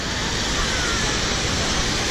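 A water park waterfall roars in a steady, dense wash of falling water, loud and close with no break.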